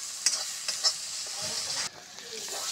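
Masala fries in a pan as oil starts to separate, with a bright continuous sizzle and a few quick stirring scrapes, close and fairly quiet.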